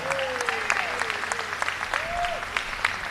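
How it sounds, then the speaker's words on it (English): Community center audience at a ribbon-cutting ceremony claps for a woman called to the front, a close, lively patter of hands with a few brief vocal whoops rising over it. "Give her a big hand clap"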